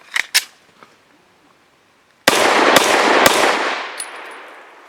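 Gunshots from a Remington RP9 pistol firing 65 grain Inceptor RMP ammunition: two sharp, lighter reports open the clip, then after a pause three loud, close shots ring out in quick succession over a long, reverberant decay.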